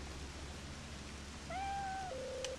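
A cat meowing in the video game Innocent Life, one drawn-out, clear meow with a falling tail, heard over a quiet background hum.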